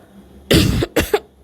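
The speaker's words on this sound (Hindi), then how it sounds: "क्या बात है, आपको खांसी हो गई है?" Two rough coughs from a person with a sore throat in quick succession, the first longer and harsher, the second shorter with a brief throaty follow-up, close and clear against a quiet background.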